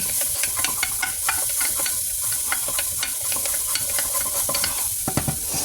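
Onion and other ingredients toasting in a pan while being stirred, a constant sizzle broken by frequent sharp scrapes and clicks of the utensil against the pan, close and alone.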